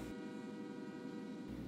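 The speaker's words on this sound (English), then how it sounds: "Just in time to catch the CSX manifest train coming right at us underneath the bridge" A CSX manifest train in the Trainz 2019 railroad simulator passes under a bridge, giving a sustained, steady horn-like tone over rumbling rail noise, moderately loud throughout.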